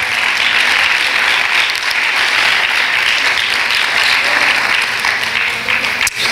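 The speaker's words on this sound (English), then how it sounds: "Why don't we give the Lord a hand clap of praise right now?" A church congregation clapping in praise to the Lord, a loud, dense and continuous burst of many hands that holds steady before dipping near the end.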